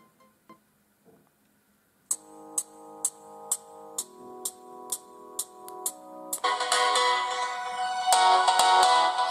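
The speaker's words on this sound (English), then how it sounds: "So this is the music from the phone, from the speaker." Music plays from the built-in loudspeaker of an iNew V3 Plus smartphone, opening with a few faint taps, then steady repeated plucked notes that swell into a louder, fuller tonal passage, alone with no talk.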